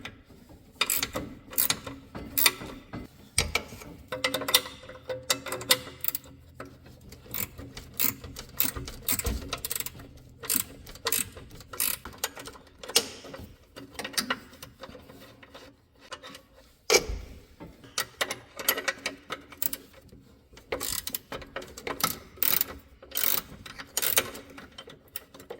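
Wrench turning 1/2-inch (13 mm) lock nuts off the motor mount of a Club Car golf cart, a run of quick ratcheting clicks and metallic rubbing in short bursts, close and moderately loud, with occasional thumps.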